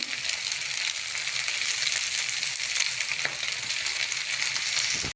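Schezwan fried rice with coriander stir-fries in a hot pan, a loud continuous sizzle with faint scraping of the spatula, close and steady throughout with no talk.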